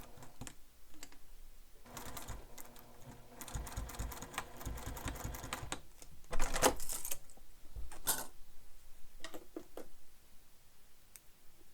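A sewing machine with a zipper foot stitches a bag near a magnetic snap, with bursts of rapid stitching in short and longer runs, loud and close, separated by pauses and small clicks.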